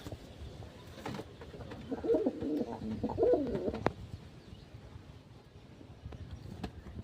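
Pet pigeons, including a newly brought red-eyed female, give soft, throaty coos in a short burst near the middle, close and fairly quiet over light background rustling.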